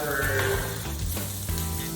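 Broccoli, peppers and other vegetables for a tofu stir fry fry in a hot pan, giving a steady, loud, continuous sizzle with faint stirring and scraping underneath.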